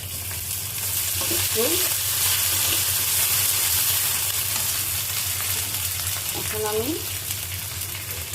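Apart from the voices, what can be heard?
onions frying and sizzling in a pan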